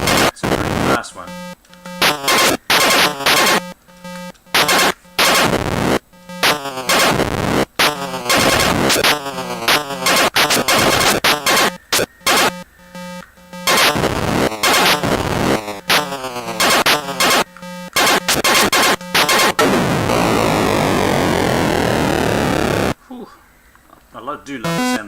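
Atari 2600 Seaquest gameplay fills the scene with loud, dense electronic bleeps, buzzes and rapid blasts in fast bursts, with a falling sweep near the end and a short quieter stretch before it resumes.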